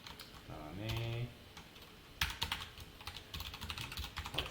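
A computer keyboard clatters with bursts of quick keystrokes as JavaScript and jQuery code is typed, and someone speaks briefly before the typing takes over.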